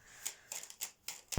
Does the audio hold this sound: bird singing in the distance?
no